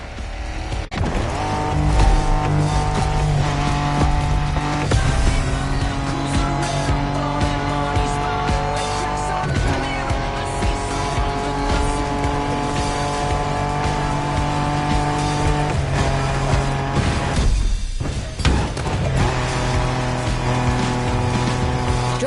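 Off-road racing car in a GTA game, a steady loud engine drone with shifting revs and tire noise running throughout under game music, dipping briefly near the end before resuming.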